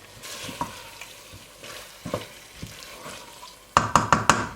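Potatoes roasting in a pan over medium heat for an Indian aloo masala curry hiss with a steady sizzle, broken by occasional stirring scrapes and a closing burst of sharp utensil knocks against the pan.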